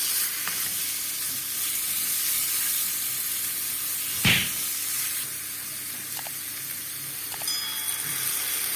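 Garlic sizzles loudly in vinegar in a hot pan for Egyptian koshari, a steady hissing fry with occasional clinks and scrapes of stirring, one sharp knock midway.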